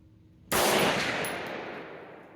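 An Armalite AR-180 rifle fires at an outdoor range, a loud burst of rapid shots that breaks out suddenly from near silence and rings on in a long decaying blast.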